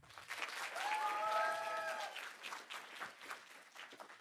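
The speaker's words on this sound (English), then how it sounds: "Another round of applause." An audience at a law school moot court competition applauds as competitors are introduced, a fairly soft, even patter of clapping from a modest crowd with a brief whoop in the middle.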